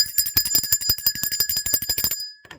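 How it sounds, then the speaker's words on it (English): Bright metallic bell, like a bicycle bell, rung rapidly and repeatedly in a fast trill of ringing strikes, loud and close, then cut off with a short ringing tail. "Let's ring the bell for it."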